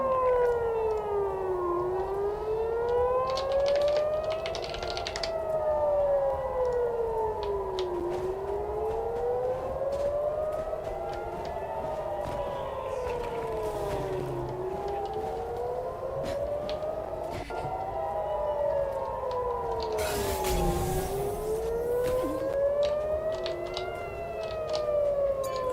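A civil defense siren wails continuously, rising and falling in long slow cycles, loud and steady throughout with faint background noise.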